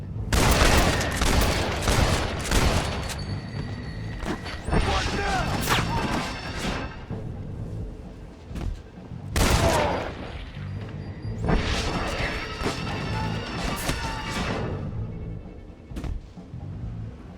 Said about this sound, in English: They really taking the time to shoot at me right now after the dynamite accident.